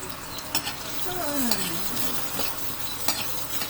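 Ginger sizzles in a pan for clam soup while being stirred, with a steady close frying hiss broken by scraping utensil strokes and a few light clinks.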